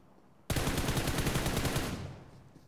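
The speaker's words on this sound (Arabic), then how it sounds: "هاي اكو واحد صوت طلقات يمكن" A single loud burst of rapid automatic gunfire in PUBG Mobile starts abruptly, rattles for about one and a half seconds, then trails off into a fading echo.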